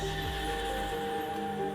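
A horse-bodied creature, the Lunibus Moonlit Plume from the Honkai: Star Rail video game, lets out a single steady neigh that rings over a sustained tonal game backdrop with no talking.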